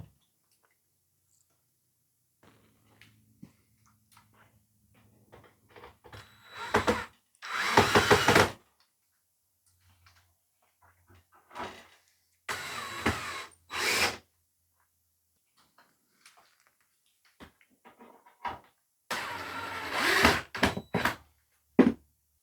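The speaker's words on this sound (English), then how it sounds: "now we're just going to put those screws back in with our screw gun" A screw gun drives screws back into an electric fireplace in several short whirring bursts separated by quiet pauses, close and fairly loud, with light handling clicks between them.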